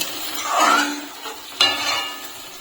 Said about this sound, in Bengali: এখন আমি ঝোলটাকে ফুটতে দেবো।